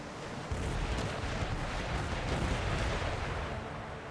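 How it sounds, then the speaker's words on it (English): A ship's port cannon battery fires in Empire Total War, a sudden heavy boom that rolls into a dense, sustained rumble of overlapping blasts before fading slightly. "Port battery fire!"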